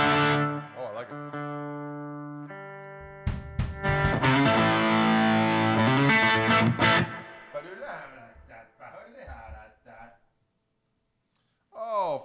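Electric guitar played live through a Gristle King distortion pedal: clean sustained notes give way to a loud, thick, distorted chordal passage, then fade into softer bends before a short silence and a final burst.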